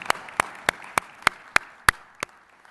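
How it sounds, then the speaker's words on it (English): Conference audience applause, heard as sparse, evenly spaced sharp claps about three per second, fairly close and thinning out toward the end. "I'd like to offer them a round of applause"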